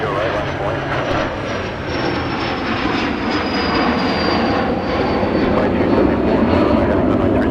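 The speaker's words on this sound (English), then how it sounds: "This Learjet just taking off right now" A Learjet takes off on a winter day at Minneapolis–Saint Paul airport, its jet engine roaring steadily and loudly with a rising whine, while a voice talks over it.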